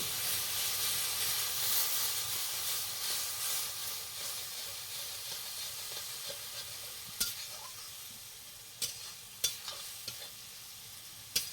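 A paste of ginger, garlic and onion sautés in a pan over a village clay stove, a continuous hissing sizzle that slowly fades, with sharp spatula knocks against the pan toward the end.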